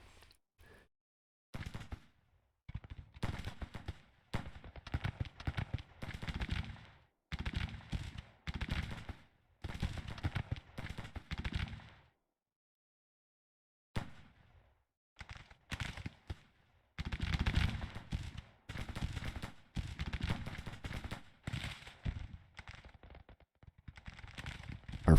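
Ragged volleys of musket and cannon fire crackle through a Civil War strategy battle in Grand Tactician, coming in dense clustered bursts with short silent gaps, moderately loud and distant.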